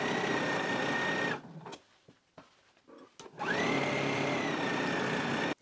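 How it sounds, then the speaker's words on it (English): Stitching a sleeve to a shoulder seam at a 5/8 inch allowance, a sewing machine hums steadily, stops for about two seconds of quiet clicks and handling, then resumes a steady run. "we can go ahead and stitch it down at a 5/8 of an inch seam allowance"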